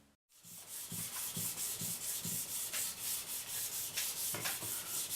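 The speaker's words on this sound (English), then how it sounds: "polish it out with the wet dry 400 grit sandpaper on just a plain old everyday block of wood" A sword blade sanded with 400 grit wet-dry sandpaper wrapped on a plain wooden block, steady rhythmic back-and-forth rubbing strokes, close and alone, about two strokes per second.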